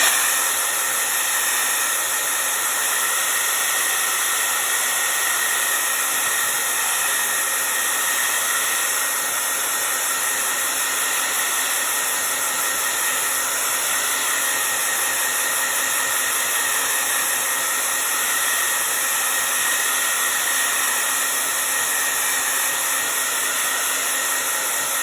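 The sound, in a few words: hair dryer blowing to dry paint on a craft sea turtle shell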